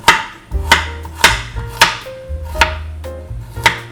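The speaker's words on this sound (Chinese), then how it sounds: "咱来切食，因为这蒜头足好食" A knife chops garlic cloves into large slices on a cutting board, with about seven sharp, close, loud cuts in an uneven rhythm and no talking.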